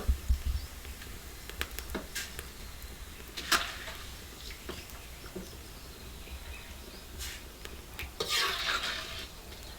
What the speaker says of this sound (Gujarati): હવે આપણે પૌવા તળ નાખી